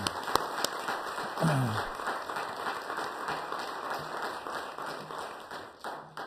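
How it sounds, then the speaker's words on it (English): Applause for hardworking staff at a board meeting, a moderate round of clapping from a modest group heard at some distance, steady and fairly soft throughout. "I'm going to give them a round of applause"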